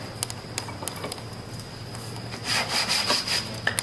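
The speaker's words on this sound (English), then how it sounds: "Sand for 5 minutes," Used sandpaper rubbing back and forth over a wooden checkerboard, a steady dry scratching that turns louder and coarser in the closing seconds, close by with no talking.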